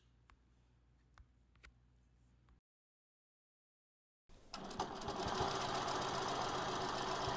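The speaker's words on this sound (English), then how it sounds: "Let's go to the machine and see it stitched." A quilting sewing machine stitches along an inner border: a few faint clicks, a short stretch of silence, then a loud, steady, rapid mechanical whir of stitching that holds to the end.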